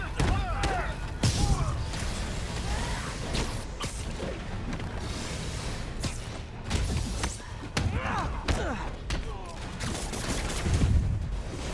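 Bursts of gunfire ring out during combat in the Spider-Man PS4 video game, with repeated loud shots and thuds layered over busy game effects and music.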